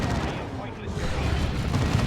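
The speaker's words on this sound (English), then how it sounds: "Grenade misses." A grenade explosion in the real-time strategy game Dawn of War 2 during a 2v2 match, a dense rumbling boom that fills the short moment, with battle noise around it.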